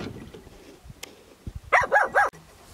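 A shepherd's dog on a sheep farm in Maramureș gives three quick, sharp barks close by near the end, after some quieter rustling and faint voices.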